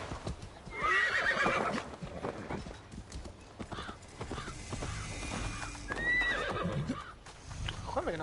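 A horse in Assassin's Creed Valhalla clip-clops and neighs, with whinnies near the start and again midway over continuous game ambience and music.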